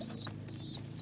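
Crested Homer pigeons cooing in a loft, a low throaty coo repeating steadily close by, with higher chirping calls from other birds breaking in and out above it.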